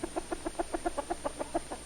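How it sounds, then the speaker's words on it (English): Rapid, steady clucking from roosters at a 1945 fair, a quick regular run of short calls close by with no talk. "It's natural for roosters to fight, and quite harmless through the bars."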